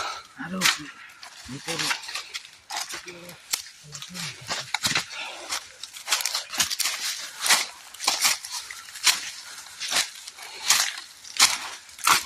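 Bamboo being cut in a garden: repeated sharp, close chopping strikes in an irregular rhythm, with people talking in between.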